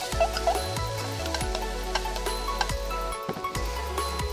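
Pork sizzles and crackles in a hot pan as glass noodles are added and stirred in, with steady close frying noise and occasional sharp scraping clicks.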